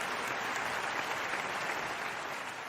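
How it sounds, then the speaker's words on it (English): A burst of celebratory hand clapping, dense and continuous like applause, fairly close and steady for a few seconds with no talking over it. "I want to give this nice little congratulatory, celebratory hand claps for the NCAA"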